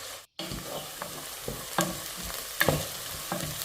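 Onions frying in a pan while being stirred for a squash lecho, a steady sizzle with scraping stir strokes repeating every half second or so, close and fairly quiet.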